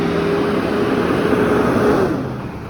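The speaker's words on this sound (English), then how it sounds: "Oh, here comes a very noisy truck." A noisy truck, apparently carrying sand, rumbles steadily past on a street with a loud, low engine drone that fades slightly at the end.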